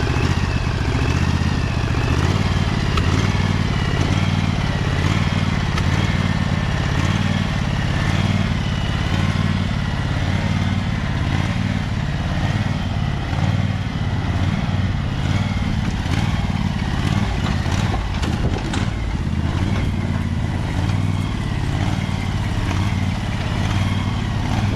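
Husqvarna 2346XLS hydrostatic lawn tractor engine idling, a steady loud rumbling drone that holds unchanged throughout, close up with no talk.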